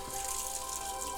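Water runs steadily from a faucet inside an RV, turned fully to the hot side, producing a constant hissing flow with no breaks or voices.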